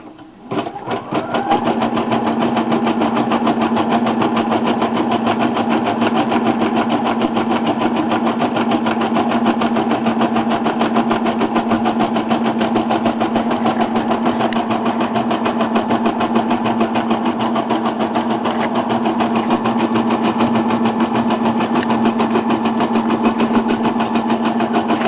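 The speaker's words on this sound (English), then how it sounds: "Press the foot down, press your green button, and it's ready to stitch again" A Brother SE 400 embroidery machine stitches felt for hair bows, a steady loud mechanical whir with a rapid needle rhythm that runs unbroken after a brief start, close up and without talk.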